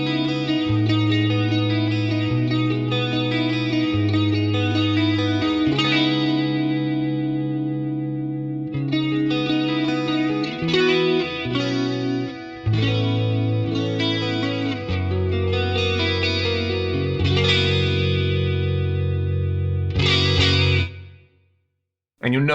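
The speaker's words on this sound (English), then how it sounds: "With the vibrato depth at 3 and the rate at 1, you get a really lovely, wide, subtle chorus on there." Electric guitar runs through an Axe-Fx III recreation of a Boss CE-1 in vibrato mode, set to a depth of 3 and a rate of 1 for a wide, subtle chorus shimmer. Sustained chords and notes ring for about twenty seconds, then fade to silence.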